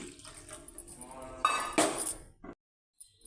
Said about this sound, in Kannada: ಅದೇ ಕಪ್ಪಲ್ಲಿ ಎರಡು ಕಪ್ ನೀರು ಹಾಕ್ಕೊಳ್ತಾ ಇದ್ದೀನಿ